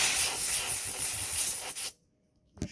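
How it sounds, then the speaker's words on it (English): Cleaner sprayed onto equipment in a steady hissing stream for nearly two seconds, followed by silence and a brief rub or tap. "I'm just spraying"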